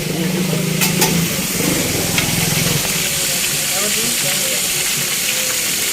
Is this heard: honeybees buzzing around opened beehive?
no